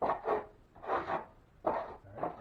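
A drywall knife scrapes and smears mud across a textured wall in four slow, close strokes with soft pauses between them, and no one talks.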